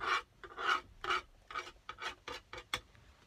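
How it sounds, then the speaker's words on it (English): A palette knife scraping leftover bits, a series of about nine short rough rasping strokes, close and fairly loud, in an uneven rhythm with brief quiet gaps and no voices. "this empty space and then use with the palette knife, scrape out"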